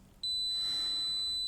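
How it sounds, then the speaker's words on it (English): A Kaiweets KM601 smart multimeter in continuity mode lets out a single sustained high-pitched beep that starts abruptly after a brief quiet moment and holds steady, close and clear. "It's beeping."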